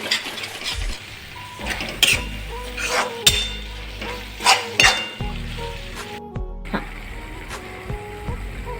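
Soybean chilli with tomato ketchup being stirred in a pan: scraping spoon strokes and metallic clinks against the pan over a low sizzle, in irregular bursts.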